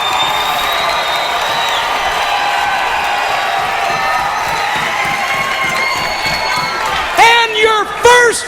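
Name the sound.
wrestling arena crowd cheering and applauding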